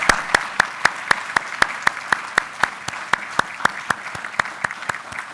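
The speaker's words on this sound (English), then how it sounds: "So would you please give her a round of applause?" Audience applause at a university faculty senate meeting, heard as steady, evenly paced clapping with crisp individual claps close by, continuing without talk.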